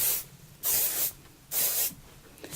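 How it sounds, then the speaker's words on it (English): Two short bursts of Goldwell Perfect Hold hairspray hiss close up, each lasting about half a second, separated by a brief pause. "And we'll give it a little spray."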